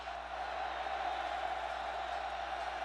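Steady, dense roar of a large stadium crowd at a college football game between Oklahoma and Texas Tech, a continuous wash of distant voices with no distinct breaks.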